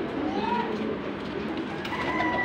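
Teddy pigeons kept for sale in Lahore coo softly and repeatedly at close range over a steady background hiss, with faint voices nearby.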